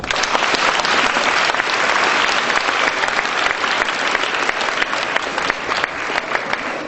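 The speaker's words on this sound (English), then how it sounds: "I think you all can clap now." Loud, dense applause from an audience at a school appreciation day, sustained evenly throughout with no talking.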